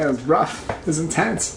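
Someone at a Dungeons & Dragons table imitates a dog with a series of whining, yelping vocal cries rising and falling in pitch, close and fairly loud, mixed with ordinary speech.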